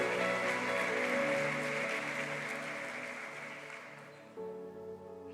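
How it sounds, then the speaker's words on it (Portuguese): A church congregation applauding during a worship service, a sustained soft wash of clapping over a steady musical drone, gradually fading before a change in the background music. "aplauda bem forte o Filho de Deus"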